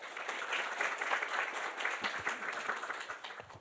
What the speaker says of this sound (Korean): 큰 박수로 최원일 박사님을 맞이해 주시기 바랍니다.